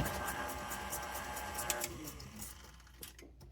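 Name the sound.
electric mixer mixing ice cream sandwich dough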